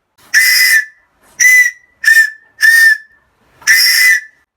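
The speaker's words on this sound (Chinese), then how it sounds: "这个3孔的笛子口哨就做好了，我们试一下它响不响" A handmade three-hole bamboo whistle blown in five loud, shrill blasts of about half a second each, separated by brief silences, heard very close with no voices.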